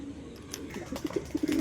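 Seven active pigeons, two hens and five cocks, give a few short, soft coos near the end of a brief moment, close by and without talk.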